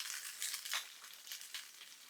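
Food sizzling in a hot pan during home cooking with blackberries, a continuous bright hiss and crackle with small swells, moderately close and without talk.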